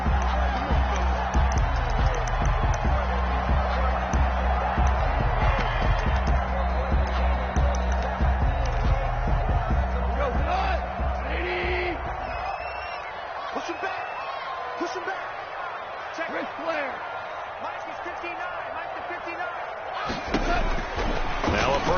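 Stadium crowd cheering in a football video game, a Minnesota Vikings versus Green Bay Packers match, forms a loud continuous roar with thumps and impacts, easing somewhat in the second half while commentary talks over it.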